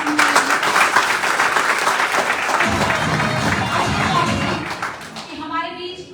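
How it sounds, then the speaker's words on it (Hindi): Loud, dense applause from an audience at a motivational leadership talk, clapping steadily for several seconds before tapering off near the end. "मैं चाहूंगी एक बार आपके सम्मान में अगेन जोरदार ताली"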